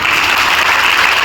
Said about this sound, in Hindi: पहले एक बार जोरदार ताली बजाओ